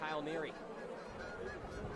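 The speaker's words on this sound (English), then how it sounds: "Our friends the Geese seem to be back. I hear them somewhere." Geese honk in a ragged chorus near a baseball field, their calls faint and somewhat distant, mixed under steady background crowd noise and commentary.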